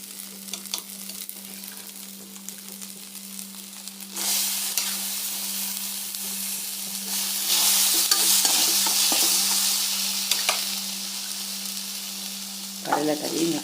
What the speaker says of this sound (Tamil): கடலைக்கறி மிக்ஸ் ஆகிட்டுருக்கு.